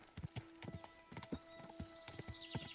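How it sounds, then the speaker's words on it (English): Horse hooves in Kingdom Come Deliverance 2 beat out a quick, steady rhythmic clip-clop at a gallop, fairly faint and without talk. "Go, go, horsey, go."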